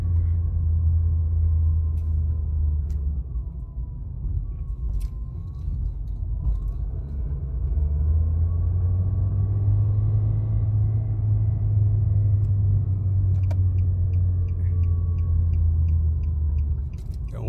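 A car with a failing CVT transmission drives along, its steady low engine and road rumble droning continuously with slight surges, and a few faint clicks and knocks sound from the back.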